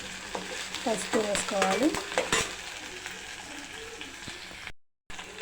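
Ground paste for carrot rice sizzles and fries in a pan, with spoon scrapes and stirring strokes over a steady crackle. A voice speaks briefly over the cooking, and there is a short gap near the end.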